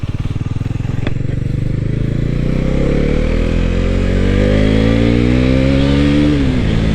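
A Bajaj motorcycle engine runs close up and steady, then revs rising through the gears with a climbing pitch before easing off near the end, loud throughout with no talking.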